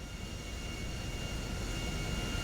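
A loud, steady airplane engine drone in the video game GTA 5 roars throughout, constant and close, with a thin high whine riding on top.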